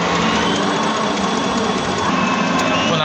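A DTF printer runs its print head cleaning cycle, a steady whirring mechanical hum with a high buzzing edge, continuous and close.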